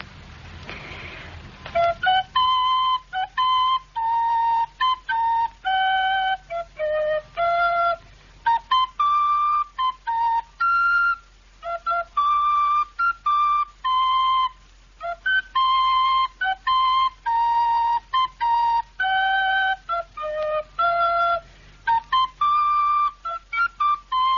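A person whistling a tune alone, a clear, steady melody of sustained and short notes with brief breaths between phrases, close and fairly loud over a faint background hiss.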